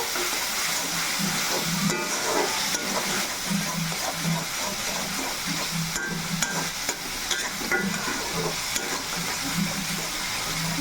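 Chili powder for a chicken curry fries in a pan with a steady close sizzle, while a spoon scrapes and stirs in a repeated rhythmic pattern throughout.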